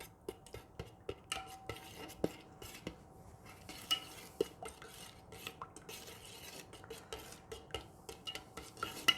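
Pink rose soap base being stirred and mixed in a container, with quiet repeated clinks and scrapes of a utensil at an uneven rhythm, close but faint, and no voices.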